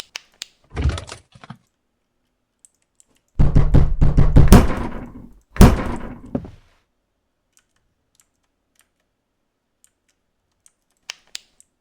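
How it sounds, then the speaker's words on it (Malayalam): A few loud knocks or bangs on a door in a horror video game come in separate bursts, a short thud early on, then a longer run of heavy banging and one more hit, with silence between. "ആരണ്ട് വാതിലിട്ട് അടിച്ചായിരുന്നു"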